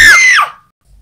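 Woman screaming in a video game, a single loud high-pitched shriek lasting about half a second that wavers and then drops away into silence.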